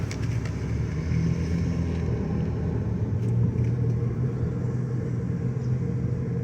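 A Dodge Caravan drives with a steady, loud low rumble and throbbing vibration from inside the cabin as it picks up speed, with no talking.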